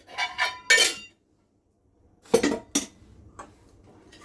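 A spoon stirring a sticky pomegranate sweet mixture with ghee in a pan, heard as several quick bursts of scraping and clinking separated by a silent gap, close and fairly loud.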